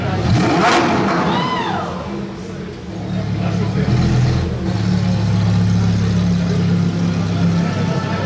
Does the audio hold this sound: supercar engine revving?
yes